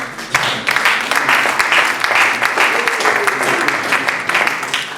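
Church congregation applauding during a worship service, sustained dense clapping from a crowd with cheering voices mixed in.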